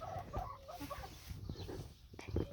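Soft clucking and murmuring from a flock of hens sunbathing on the ground in a backyard poultry run. Short irregular calls come and go at low volume, with faint voices in the background.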